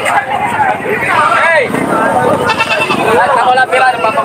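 Goat bleats rise and waver over a busy background of chatter and crowd noise at a goat market, several calls heard close up.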